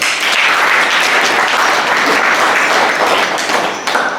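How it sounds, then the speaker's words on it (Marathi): Dense, loud applause from a crowd fills the whole stretch, steady and close, tapering slightly near the end. "त्यांच्यासाठी पुन्हा एकदा टाळ्या वाजवतात"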